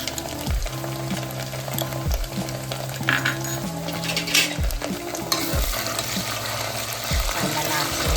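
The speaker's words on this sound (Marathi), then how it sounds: "कांदा लालसर भाजून" Onion with garlic paste fries in a pan, a continuous sizzle under repeated scraping stir strokes and occasional clinks of a utensil against the pan, heard up close.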